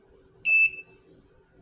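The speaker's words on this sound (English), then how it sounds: "pump is beeping" A single electronic beep from a hydroponic indoor garden unit's pump, a steady high tone lasting about a third of a second, clear and close against a quiet room hum.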